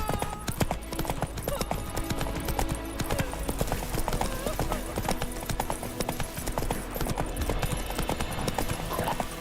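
Geralt's horse Roach trotting in The Witcher 3, a steady clip-clop of hooves running throughout at moderate loudness, with a brief whinny and ambient game sounds mixed in.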